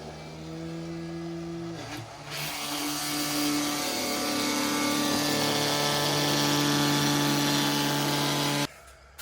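A pump sucks coolant out of a Jeep JKU 3.6 engine with a steady, loud mechanical whine and hum, starting after a short click near two seconds and running continuously until it cuts off abruptly near the end.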